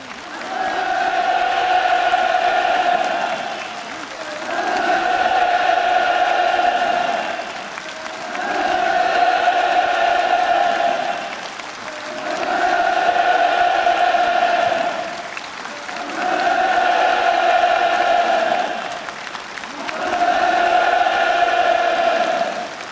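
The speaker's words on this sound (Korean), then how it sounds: "공연이 끝나자 또다시 열광적인 환호성이 장례를 진감했습니다" A large crowd at a North Korean New Year celebration performance applauds and cheers loudly and continuously, the roar surging and easing in regular waves, with chanted rhythmic shouts from the audience.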